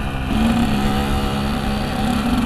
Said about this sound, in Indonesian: Pantesan kerasa kok suaranya beda motor knalpot gua gitu.